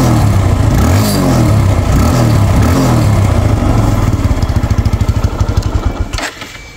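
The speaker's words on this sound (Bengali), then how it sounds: "বাইকটা স্টার্ট করে সাউন্ড কন্ডিশন দেখাও" A second-hand TVS Apache RTR 160 cc motorcycle engine runs loud and close, revving unevenly before settling into a rapid, regular thumping beat that cuts off abruptly near the end.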